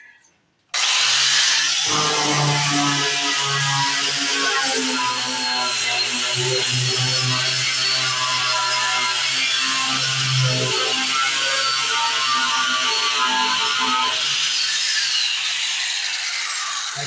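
An angle grinder works across a dented car roof panel, a steady, loud, close whine with a harsh metallic hiss that starts abruptly and runs unbroken, its pitch wavering slightly as the tool moves.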